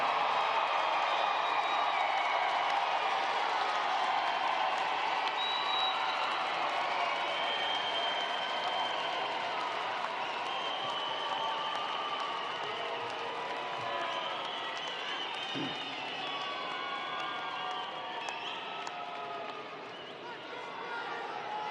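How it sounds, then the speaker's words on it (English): A large graduation commencement audience applauds steadily, a broad dense wash of clapping with crowd murmur that holds for about twenty seconds and eases slightly toward the end. "salute them with your applause"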